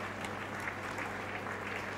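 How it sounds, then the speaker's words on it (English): A crowd at a university convocation ceremony in Lagos State applauds, a steady, fairly faint wash of many hands clapping heard from a distance over a low hum. "let's give him a big round of applause"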